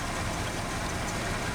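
A Ford 360 engine idles after a vacuum advance replacement, a steady, even low rumble with a broad hiss, continuous and fairly close, with no voices.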